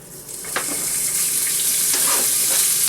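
Bacon frying in about a tablespoon of oil in a Le Creuset pot, a steady loud sizzle with occasional pops and faint stirring scrapes.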